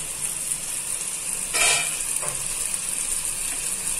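Tomatoes cook under a lid in a pan, giving a steady close hiss and sizzle throughout, with a brief louder rattle or shift partway through.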